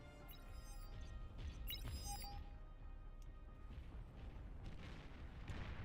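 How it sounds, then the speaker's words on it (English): A volcano spurting in an online video game, a deep rumbling boom with crackling bursts layered over a low, continuous roar, fairly faint and lasting several seconds. "The volcano let out a spurt."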